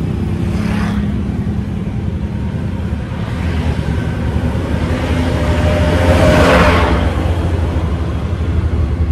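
A big truck passes on a nearby road, a loud low rumble of engine and tires that swells and peaks about two-thirds of the way through, with no voices.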